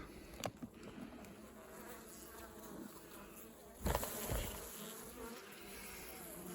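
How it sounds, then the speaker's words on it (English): A soft, steady buzzing of many feral honey bees at a hive during a winter inspection fills the background, with a few brief knocks and rustles nearby. "Look at this for a hive of bees, guys."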